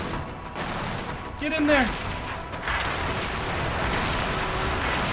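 Scarab firing its weapons in Halo 3: dense, continuous roaring gunfire and booming blasts fill the clip, loud and sustained, while a player shouts over the din.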